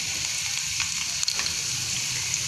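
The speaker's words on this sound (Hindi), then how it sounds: "थोड़ी थोड़ी डाल के फ्राई कर रही हूँ मैं ताकि अच्छी फ्राई हो, क्रिस्पी लगे" Potato chips fry in hot oil, a close, continuous crackling sizzle with a faint clink partway through.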